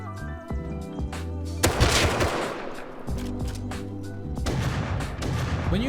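Heavy shotgun blasts from a double barrel shotgun boom in the survival game Rust, one loud report near the two-second mark followed by further sharp shots, set against looping background music and game ambience.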